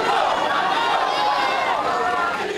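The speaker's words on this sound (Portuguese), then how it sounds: "Eles gritavam os nomes dos jogadores um a um." Football fans gathered outside the arena for the national team's training departure shout out player names, a dense loud crowd of overlapping raised voices calling continuously.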